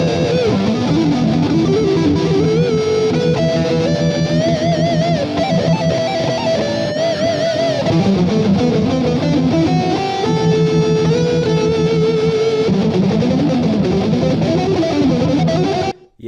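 A sloppy distorted electric guitar solo played on thick strings in a song, with continuous loud, wandering melodic lines over a dense sustained backing and no talking.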